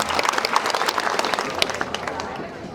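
Women in the audience at a Manjhi community gathering in Gwalior clap steadily as a crowd, with a voice speaking over the applause.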